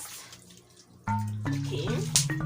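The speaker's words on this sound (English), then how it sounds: "Right away, I'm going to wash, a thorough wash." A tap suddenly gushes as chicken pieces are washed under running water for a traditional village chicken meal. The water runs loud and close, splashing steadily after a quiet start.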